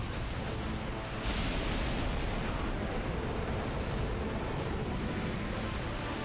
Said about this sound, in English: Luckily his fire breath doesn't do that much to me.